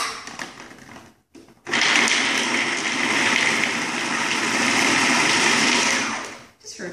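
A blender whirs loudly and steadily for about five seconds, breaking down raw cacao, coconut and ground cinnamon, after a short burst and a pause. It spins down at the end.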